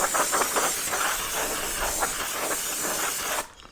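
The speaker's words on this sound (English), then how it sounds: "I'm going to go ahead and just hit this with the brake cleaner just to knock off any shavings or whatever" Brake cleaner sprays onto the engine of a 2002 Polaris Sportsman ATV in a loud, close, continuous hiss that cuts off abruptly near the end.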